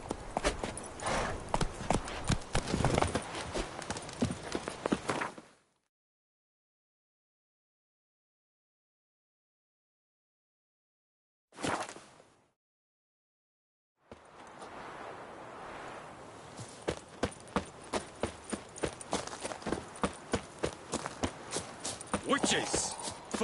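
Hoofbeats of Roach, a horse in a Witcher video game, clopping in a steady rhythm at close range, broken by a few seconds of silence and then resuming, with game voices speaking over parts of it.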